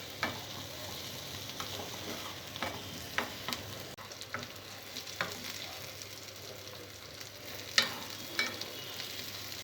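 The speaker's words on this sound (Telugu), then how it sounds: "ఈ మెంతి ఆకు పచ్చి వాసన పోయే వరకు బాగా ఫ్రై చేసుకోవాలి." Fenugreek leaves with turmeric fry in a pan, a quiet steady sizzle broken by repeated light scrapes and taps of a stirring spoon, heard close up with no talking.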